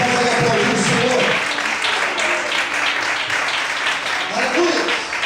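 Continuous applause fills a church as the congregation claps hard in praise, a thick, steady roar of hands with voices audible amid the noise.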